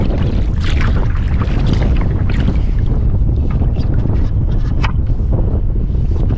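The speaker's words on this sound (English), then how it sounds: "Ooh, headwind." A strong headwind buffets the microphone in a steady low roar while kayaking, with water sloshing faintly underneath and no talking.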